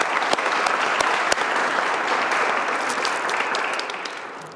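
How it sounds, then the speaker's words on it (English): Audience at an annual award celebration applauds in a sustained, full roar of clapping with a few sharp accents near the start, tapering slightly toward the end. "Give yourselves all a round of applause"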